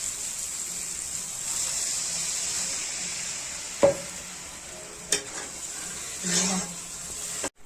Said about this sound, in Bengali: এখন আমরা অল্প জল দিয়ে দিব।